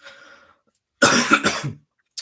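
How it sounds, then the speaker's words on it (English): A single harsh cough, loud and close, after a faint murmur, followed by silence and a brief breathy burst at the end. "The cough."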